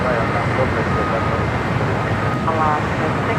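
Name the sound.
airplane taking off from runway 25 right at LAX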